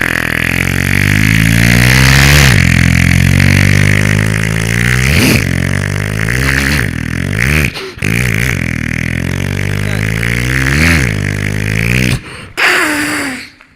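A boy imitates a motorcycle with his voice: loud, close buzzing revs that swoop up and down in pitch in repeated strokes, with brief breaks and a sharp final burst.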